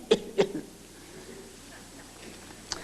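A voice imitating an old man's cough during a church sermon: two short rough coughs close together near the start, then a faint one later, spoken in a quiet room.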